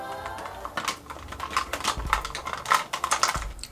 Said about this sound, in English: Taking a pair of scissors and chopping off about this much.